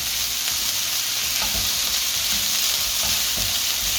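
Green chilies fry with garlic in oil for garlic fried rice, a dense close sizzle with occasional stirring knocks and scrapes, steady and fairly loud without voices.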